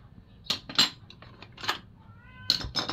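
A pet cat meows several times up close in short, sharp cries with pauses between them, along with some light clinking in the background.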